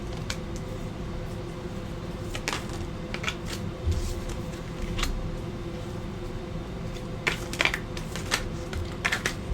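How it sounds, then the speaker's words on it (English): A tarot deck is shuffled by hand, with soft, irregular riffling and flicking of cards over a steady background hum, close and fairly quiet. "having a hard time shuffling this one"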